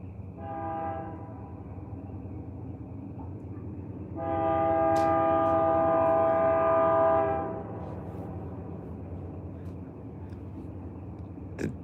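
A train horn sounds in two blasts: a short, moderately loud toot, then a louder sustained blast of about three seconds over steady rail rumble, with no talk.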